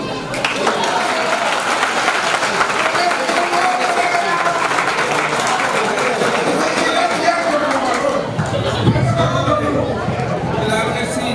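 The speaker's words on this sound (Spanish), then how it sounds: "un fuerte aplauso para don Papito Ramírez" An audience at an awards ceremony in Villa Sombrero claps loudly and steadily, mixed with crowd chatter, the texture shifting near the end as voices and a lower rumble rise under the clapping.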